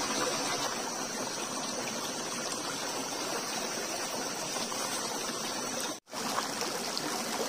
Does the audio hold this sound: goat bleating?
no